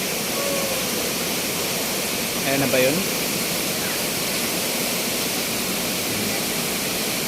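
Aurora Falls in Baler gives off a constant, broad rushing roar of falling water. A short spoken question rises briefly over the noise midway through.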